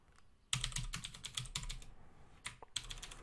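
Keys clatter in quick bursts on a computer keyboard as code is typed, a pause after the first half-second, then runs of clicks with short gaps, close and clear with no talking.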